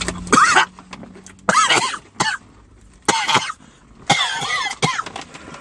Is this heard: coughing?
yes